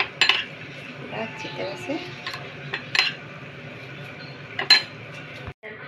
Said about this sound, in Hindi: इसमें मैं दही का जो है पेस्ट वो डाल दूंगी